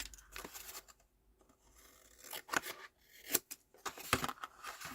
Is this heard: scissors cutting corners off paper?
yes